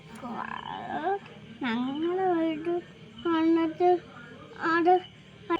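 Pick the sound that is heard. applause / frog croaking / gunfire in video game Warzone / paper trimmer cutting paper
frog croaking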